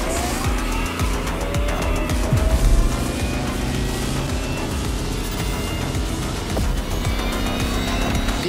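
Lamborghini Terzo Millennio electric concept hypercar driving in The Crew Motorfest, a rising electric whine with squealing tires and skidding, loud and continuous, with brief thumps and scrapes along the way.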